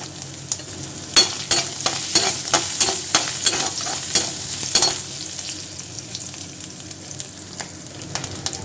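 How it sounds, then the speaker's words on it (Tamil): Grated coconut frying golden in oil for a chana dal chutney, a constant sizzle under a rhythmic run of sharp scraping stirs that slows and thins out toward the end. "இப்போ வந்து நம்ம தேங்காவை நல்லா பொண்ணுரில் வறுத்து எடுத்துக்கலாம்"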